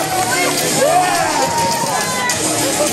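Crowd cheering and shouting in an arena as wrestler Sigma makes his entrance at an ETWA wrestling event, a steady dense roar of voices, loud and continuous throughout.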